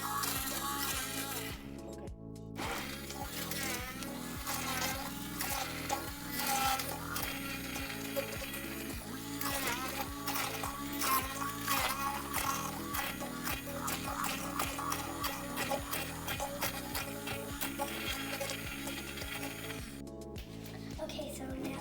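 A handheld mixer blends hot carrot soup, giving a close, continuous whirring and clattering with rhythmic mechanical ticking that runs steadily almost the whole time.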